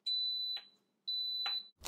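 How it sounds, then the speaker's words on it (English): An Instant Pot pressure cooker timer beeps twice, each a clear sustained high electronic tone separated by a brief gap, with a small clatter at the end. "So my timer has gone off."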